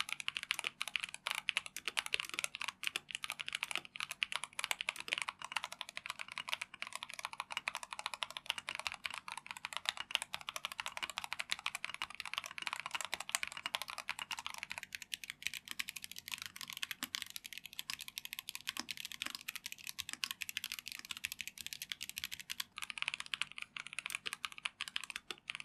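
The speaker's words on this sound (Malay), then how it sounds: "Ini typing test untuk TechWear Phantom Plus RGB Mechanical Keyboard dengan Rage Orange Switch." Continuous rapid typing on a Tecware Phantom+ RGB mechanical gaming keyboard with tactile Rage Orange switches of 45 g actuation force, a dense, even clatter of close-up keystrokes with no voices.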